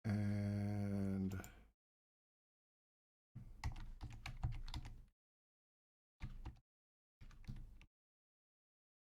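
A password is typed on a computer keyboard in short bursts of close, crisp key clicks separated by silent gaps, following a brief tonal sound at the start.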